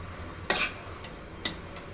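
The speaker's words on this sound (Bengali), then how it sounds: "এখন পাতাগুলো একটু নেড়েচেড়ে নিতে হবে।" Bottle gourd leaves for a mashed leaf bhorta stirred in a pan, heard as two or three quick metallic scrapes and clinks of a utensil against the pan, spaced apart over quiet background.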